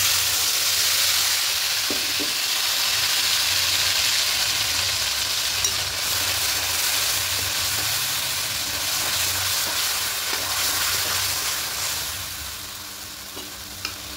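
Spice paste frying in a pan for a vegetarian potato and pointed gourd curry gives a loud, steady sizzle and hiss, with occasional stirring scrapes and no talk.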